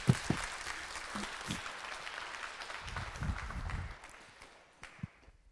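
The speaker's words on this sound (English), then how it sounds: "Please give a warm, welcoming applause to Dario Gutierrez Mori." Audience at the Future Frontend 2026 conference applauds a speaker, a steady wash of clapping from a sizable crowd with a few sharp nearby claps and thumps, fading out after about four seconds.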